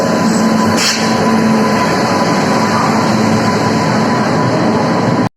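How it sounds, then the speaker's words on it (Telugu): A weekly express train rolls through a station on the Rajahmundry–Tirupati line, a loud, continuous rumble and clatter of wagons passing close by and holding steady before cutting off abruptly. "ఇప్పుడు ఈ ట్రైన్ వెళ్తుంది చూసారా, ఇది ఒక వీక్లీ ఎక్స్ప్రెస్"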